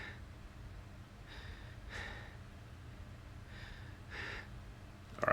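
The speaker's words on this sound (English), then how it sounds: "What's with the heavy breathing?" Heavy breathing in Silent Hill: Origins comes as faint, slow breaths, a pair of inhale-exhale cycles repeating at a steady pace over a low background hum.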